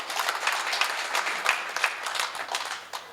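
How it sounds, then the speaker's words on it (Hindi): At a Hindi comic poetry gathering, the audience breaks into brisk, dense clapping with sharp individual claps standing out, sustained for a few seconds without talk. "एक बार जोरदार तालियां होनी चाहिए उनके लिए।"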